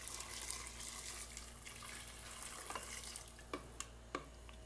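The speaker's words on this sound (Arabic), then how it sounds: "صب الموية الحين" Water runs from a measuring cup into a pressure cooker pot while preparing a grain soup, a steady hissing pour with a few clinks near the end, heard alone at moderate level.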